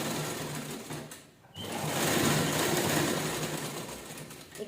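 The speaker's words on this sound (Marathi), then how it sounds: "एकसारखं आपण स्टिच करून घेऊया." A sewing machine runs in a fast, steady whir while stitching a cloth bag, pausing briefly around one second before starting up again and running continuously.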